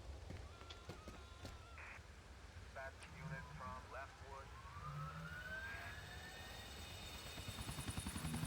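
A helicopter in GTA 4 gives off a faint, distant, steady rotor thumping that swells slightly louder toward the end, with scattered quiet background noises.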